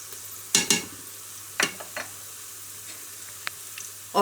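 Garlic goes into light-brown frying onions for mutton nihari, giving short bursts of sizzling and stirring scrapes, loud and near, with quiet frying between.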